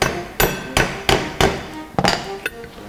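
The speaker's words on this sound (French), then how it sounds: "je prends un maillet pour extraire le pignon d'attaque de la tulipe." A mallet strikes repeatedly to knock the pinion gear out of a front axle differential housing during bearing replacement: about seven sharp, loud metallic blows at an uneven rhythm, close and alone.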